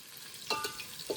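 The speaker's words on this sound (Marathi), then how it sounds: "मग आचार्य कांदा किती वेळ भाजायचा?" Onion frying in a pan for a rooftop chicken party, a soft continuous sizzle with a couple of brief scraping stirs, no voices.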